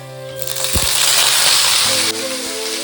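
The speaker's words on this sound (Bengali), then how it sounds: "মা লঙ্কাগুলো তুলে নিচ্ছে, কারণ লঙ্কা বিশাল ছেটে" Chillies fry in hot oil in a pan on a stove, giving a steady loud sizzle with a couple of sharp spattering pops.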